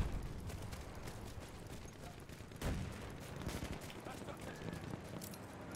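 Battlefield 1 gameplay carries a constant crackle of distant gunfire with one sharper sniper-rifle shot standing out, while a player talks quietly over it.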